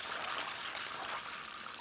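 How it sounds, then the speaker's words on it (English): Butter browning in a pan spits and crackles as its water cooks off, a dense, steady hiss of fine sizzling pops at moderate volume with no talk. "And that sound, that spitting sound, is the sound of the water being driven off."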